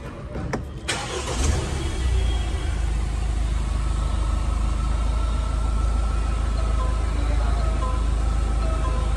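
A Mahindra Scorpio N Z8L automatic SUV engine cranks and fires within the first second, then settles into a loud, steady idle with a deep, even rumble that continues unbroken to the end.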